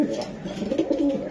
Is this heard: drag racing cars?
no